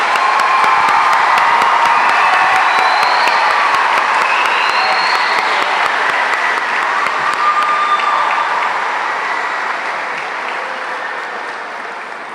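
Audience applause fills a science fair awards ceremony, a loud, dense wash of clapping mixed with a few cheers and whoops that holds steady for several seconds before slowly tapering off.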